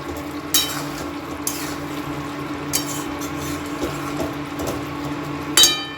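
Chicken cooks in a pan as kasuri methi is stirred in, bringing a steady low sizzle under a few sharp spoon scrapes and knocks against the pan. There is no talking.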